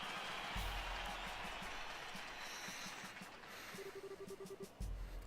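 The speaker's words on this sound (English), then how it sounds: "Let's hear a big round of applause for the victors" Steady crowd applause for the victors in the video game The Legend of Heroes: Trails in the Sky, a dense wash of clapping with a low rhythmic rumble beneath, continuing for several seconds.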